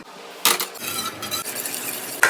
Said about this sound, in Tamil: இந்த தண்ணி ஊத்தி கலக்கி எடுத்துக்கலாம்.